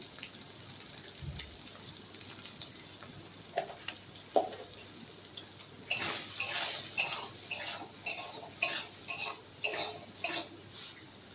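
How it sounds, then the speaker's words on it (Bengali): Soybean chunks fry in hot oil with salt and turmeric for a homemade vegetarian soybean curry. A quiet hiss runs at first, then from midway loud sizzling swells with repeated rhythmic stirring scrapes and clinks of a utensil against the pan. "সয়াবিনটা ভাজা হচ্ছে"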